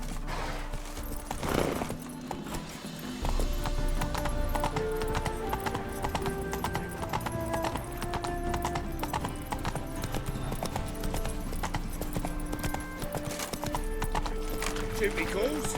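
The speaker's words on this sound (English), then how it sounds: "Whoa there, Roach." Horse hooves clip-clop steadily in The Witcher 3 while the horse is ridden and reined in, mixed under in-game music and ambience throughout.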